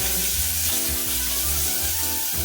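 Chopped shallots and minced garlic sizzle and fry steadily in hot oil in a pan, a loud close continuous crackle with some stirring and no talk.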